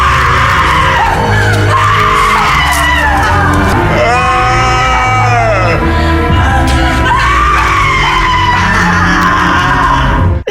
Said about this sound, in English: There are a lot of horrifying screams there.